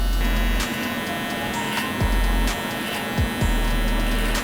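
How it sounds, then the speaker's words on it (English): A Gamma Rogue hair trimmer buzzing close up in a barbershop, a steady electric hum with brief bursts and dips as it cuts thick hair. "So we're gonna start here with our Rogue trimmer by Gamma"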